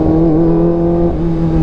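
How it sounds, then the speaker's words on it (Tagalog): A 2023 Kawasaki ZX25R motorcycle's engine holds a loud, high, screaming rev with a steady whine close up, dipping slightly near the end. "screamer talaga tong motor na to mga chong."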